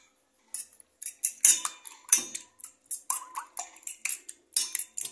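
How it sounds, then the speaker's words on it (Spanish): Five eggs with salt being whisked in a bowl, a utensil clinking against the sides in quick bursts of sharp taps, fairly close and clear with short pauses between strokes. "Batimos nuestros 5 huevitos."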